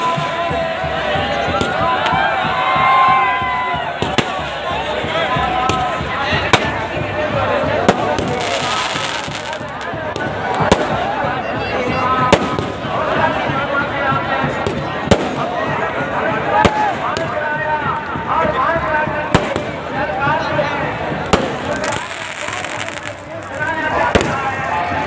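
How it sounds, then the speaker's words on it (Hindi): Firecrackers go off in quick sharp bursts during Dussehra celebrations, popping repeatedly and irregularly over a lively crowd with voices talking nearby. "जैसे पटाखा फूटता रहे"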